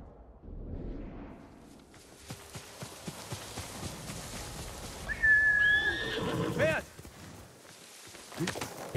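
A horse in Ghost of Tsushima whinnies with a rising, tonal call in the middle, over background music and ambient game sounds, with a few hoof-like thuds.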